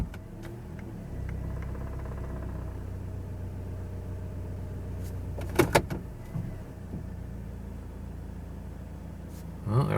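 A 2009 Toyota Corolla with a rough idle fault, shifted into drive, idles with a steady low hum. A couple of brief clunks come partway through, and another short knock lands near the end.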